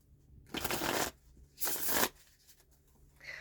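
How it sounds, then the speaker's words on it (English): Two quick riffle shuffles of a deck of cards, close up, each lasting about half a second, with a short pause between them. "Let's give it another shuffle."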